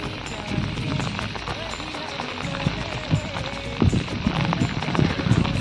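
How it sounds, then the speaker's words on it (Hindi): Heavy rain falls outdoors, a dense, steady patter of drops on surfaces close by, with scattered louder splashes and knocks throughout. "अभी बारिश"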